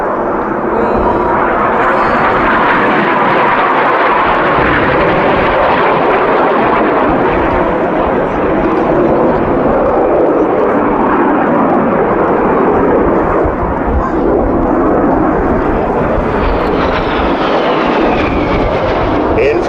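Red Arrows RAF jets performing a crossing manoeuvre at an airshow display in Kauhava, a loud continuous roar of jet engines sweeping across the sky for the whole stretch, with a commentator's voice underneath.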